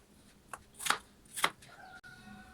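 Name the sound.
big knife cutting peeled apples into squares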